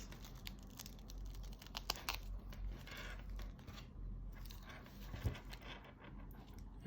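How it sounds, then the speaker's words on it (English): Packaging around a Glycine Airman SST Pumpkin watch is unwrapped with quiet, close crinkling, rustling and small scraping and tapping sounds scattered irregularly throughout, faint overall. "So just let me go ahead and unwrap this."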